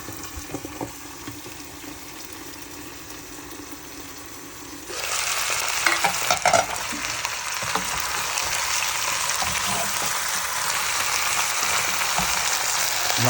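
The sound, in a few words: whole chicken frying in pot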